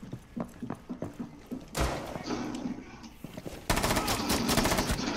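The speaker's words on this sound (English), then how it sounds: "Oh, that's a frag grenade!" Frag grenade and gunfire in Rainbow Six Siege, with rapid shots and thuds followed by a loud blast and a sustained roar, mixed with a voice talking.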